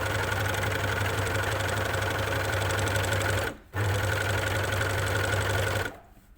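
An overlocker sewing machine stitching fabric for a bag runs at a loud, steady whirring hum, stopping briefly midway, then starting again before cutting off near the end.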